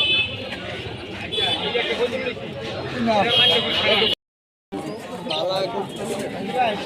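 Pigeons cooing among a crowd at a rural pigeon market in Kapasia, soft coos scattered through busy chatter and nearby voices, with a brief dropout partway.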